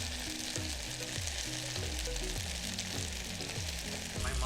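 Vegan teriyaki chicken sears in a hot pan on high heat, giving a loud, steady sizzle with a rhythmic scraping of stirring and shifting pieces running through it, and no talking.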